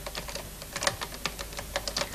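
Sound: typing on a new-design typewriter keyboard

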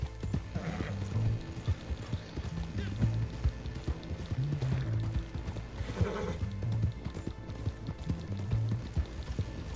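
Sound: horse galloping and neighing in video game Red Dead Online

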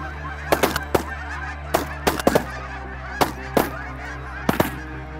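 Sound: geese honking

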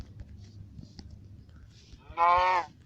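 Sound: cow mooing in Minecraft, from a video game

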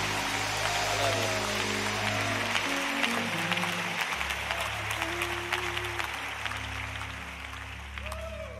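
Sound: congregation clapping hands

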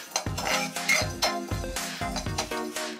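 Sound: dry roasting cloves and fennel in pan

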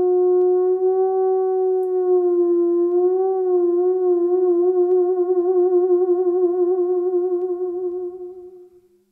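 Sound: theremin tone played with vibrato

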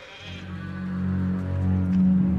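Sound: sheep bleating

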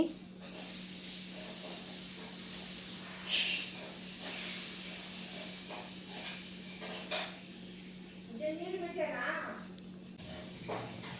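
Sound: tempering sizzling while cooking chicken curry

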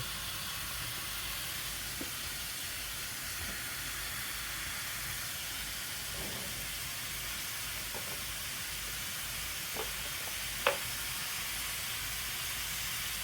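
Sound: stir-frying pork in a pan for kimchi stew

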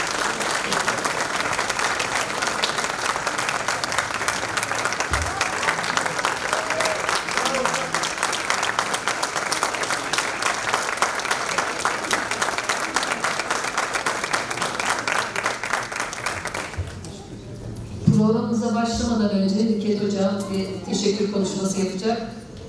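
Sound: audience applause welcoming conductor to the stage

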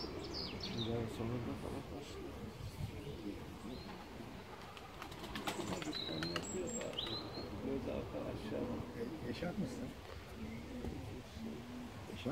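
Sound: pigeons cooing in a coop

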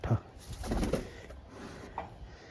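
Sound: pigeons cooing and flapping

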